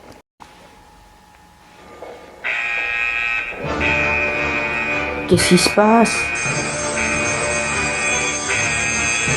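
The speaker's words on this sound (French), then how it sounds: "C'est l'alarme incendie." A fire alarm on a spaceship, in a Lego Doctor Who game, kicks in after a brief quiet moment and then blares as a loud continuous electronic tone. A voice speaks briefly over it.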